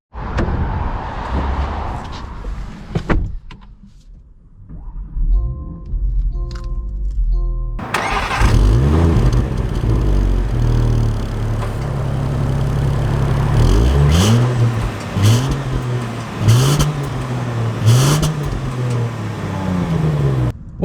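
A 2021 Land Rover Discovery R-Dynamic S starts up and pulls away, the engine catching after a quiet pause, then steady driving with repeated rising revs and gear changes, loud and close.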